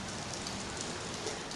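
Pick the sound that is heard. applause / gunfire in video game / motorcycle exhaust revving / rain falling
rain falling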